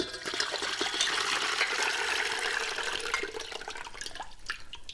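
Liquid from foamy fermenting gherkin pickles is poured off in a continuous splashing gush that tapers into trickles and drips near the end, close and alone.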